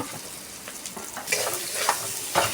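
Spices sizzle and fry in a pan with previously fried potatoes, chopped green chilli and coriander leaves as they are stirred, a steady close hiss with scraping stir strokes building toward the end.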